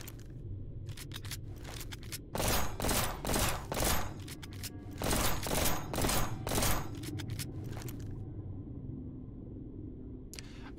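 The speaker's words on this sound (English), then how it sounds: "Tri-fire pistol." Tri-fire pistol in the video game Revulsion firing in rapid bursts, two dense volleys of sharp cracking shots separated by brief pauses, with scattered single shots and a low game ambience underneath.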